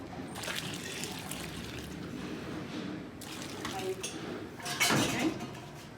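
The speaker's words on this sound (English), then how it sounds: "I'm going to add a little bit more because it's not quite enough broth" Broth pours into a pot of rice with a continuous close splashing trickle and occasional clinks of a utensil against the pot, under soft background talk.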